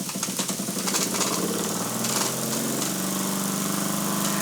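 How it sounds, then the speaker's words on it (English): Antique Jensen or Wilesco toy steam engine running at full throttle, giving a steady, close, fast mechanical chatter and hiss throughout, with no talking. "Now open that throttle up full blast, Jordan."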